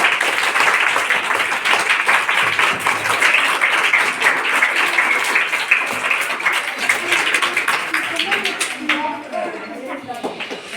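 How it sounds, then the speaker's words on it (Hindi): Steady applause from a school audience at a Children's Day quiz competition, loud and dense for about nine seconds before thinning out into scattered claps and faint talk. "तालियां।"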